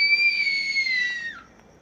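A single high, sustained scream near a tree, holding steady for over a second before sliding down in pitch and cutting off, followed by quiet.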